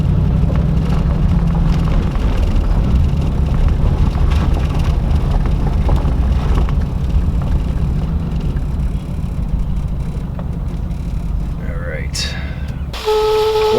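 A Buick Roadmaster that overheats, running during a struggling test drive; a loud, steady low engine rumble with wind buffeting continues throughout, and a brief tonal sound rises near the end.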